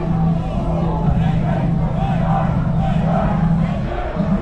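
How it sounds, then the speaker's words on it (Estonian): A football stadium crowd at an Estonian league match jeers in a loud, steady, dense roar, pressuring the referee, with a sustained mass of voices throughout. "Ja publik nõu ikka üritab siis nii Orglat kui ka kohtuniku mõjutada"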